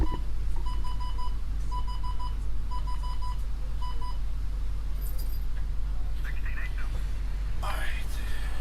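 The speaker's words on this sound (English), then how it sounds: "Had to turn off my weather radio here because it gets annoying when it just constantly beeps like that" A weather radio in a police patrol roleplay game sounds repeated short electronic alert beeps in even groups, moderately loud over a steady low engine rumble, then stops.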